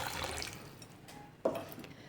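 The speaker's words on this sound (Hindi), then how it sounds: "उसमें चिकन डाल देंगे, अदरक पाउडर, लहसुन, काली मिर्चें और लौंग और नमक और 1 गिलास पानी डाल देंगे।" Water is poured from a glass into a pot holding chicken, ginger powder, garlic, black peppercorns, cloves and salt, a faint close splashing followed by one sharper splash near the end.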